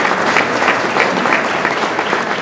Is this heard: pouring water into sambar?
no